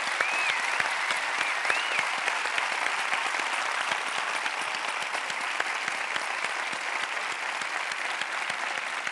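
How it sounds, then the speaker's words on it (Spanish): Dense, steady applause from an audience after a talk with Alaska at a cultural centre, many hands clapping continuously and evenly at close range, with a few faint whistles or cheers mixed in. "Un aplauso para ella."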